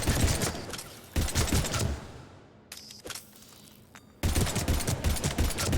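A gun fires in Mass Effect 3, loud rapid automatic bursts in two stretches split by a quieter pause, close and punchy.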